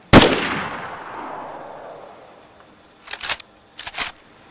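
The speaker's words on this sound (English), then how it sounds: "Did you hear that gunshot?" In the DayZ video game, a single sharp gunshot cracks out and rings off with a long, fading echo. Two short, quieter bursts of clatter follow a few seconds later.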